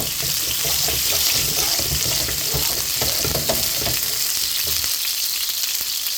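Red onion sautéing in a pan for a tomato sauce, a dense, loud hiss of sizzling oil with soft stirring clatter throughout, no talking.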